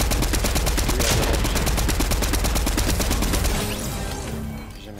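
Rapid automatic gunfire in the Fortnite battle royale game: a fast, loud, continuous stream of shots for several seconds, then a sudden stop and a fading echo.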